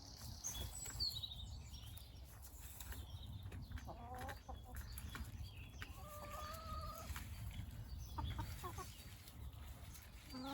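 Chickens clucking and calling nearby, with short rising squawks over a steady low rumble of background noise.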